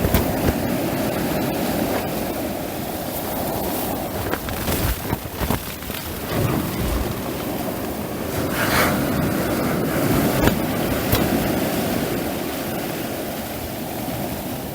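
Sea waves roll in with a steady rushing wash and a heavy buffeting of wind against the microphone, loud and continuous throughout with no voices.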